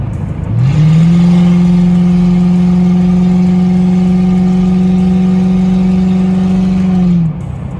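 Ford Crown Victoria pulling hard on the road, a strong droning engine note rising quickly and then holding a steady, loud tone for several seconds before easing off, heard up close.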